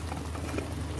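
A pot of stew bubbles on the stove, giving a steady close burbling simmer with soft popping throughout the short stretch, with no talk over it.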